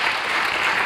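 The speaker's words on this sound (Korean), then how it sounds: "박수하겠습니다." Dense, steady applause from a seated audience at a mission forum in a hotel hall, continuous and fairly loud with no voices over it.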